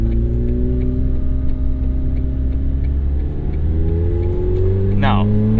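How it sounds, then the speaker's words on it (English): A 2024 McLaren 750S sports car accelerates with a loud, steady engine drone that rises in pitch, heard from inside the cabin, with a brief higher burst near the end. "the acceleration from the 750S is borderline nauseating"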